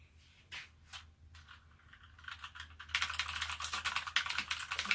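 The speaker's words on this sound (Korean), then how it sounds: "소리가 약간 딸깍딸깍 하는 느낌이 일반 청축보다 더 청량하게 들려옵니다." Rapid clicky typing on an APOINT TUF mechanical gaming keyboard with blue switches, starting with a few scattered keystrokes and building into a dense, continuous burst of sharp, bright clicks close to the mic.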